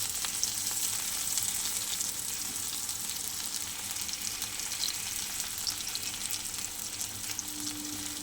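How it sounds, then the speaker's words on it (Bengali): Water lily (shapla) stems fry in a pan of oil, giving a steady, close, continuous sizzle and crackle with no voices over it. "আমার শাপলা ভাজা প্রায় হয়ে এসছে"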